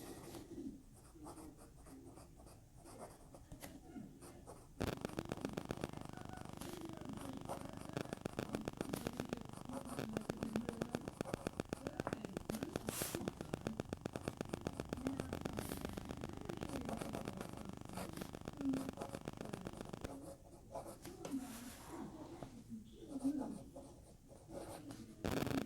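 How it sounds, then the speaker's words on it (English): A fountain pen with a smooth, wet-writing nib scratches across paper in a long, continuous series of soft strokes, close and quiet, with faint talk at the start and end. "Let's do an actual writing sample."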